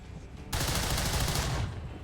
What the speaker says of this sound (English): Excellent shot right there.